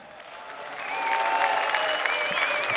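A large arena crowd at the StarCraft II grand finals of the IEM World Championship 2013 breaks into sustained applause and cheering that swells louder after the first second and holds steady.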